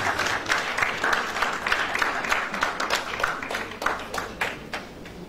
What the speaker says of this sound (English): Yes, please, a big round of applause for